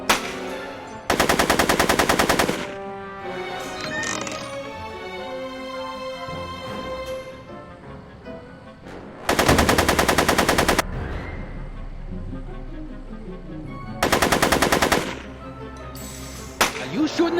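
Bursts of automatic gunfire in a Back to the Future video game, three loud sustained volleys of rapid shots separated by quieter stretches of game sound and music.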